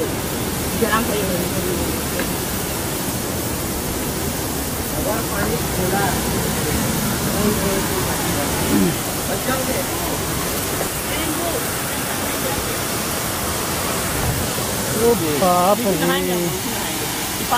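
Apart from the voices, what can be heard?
water rushing over stones at Dhanraul Dam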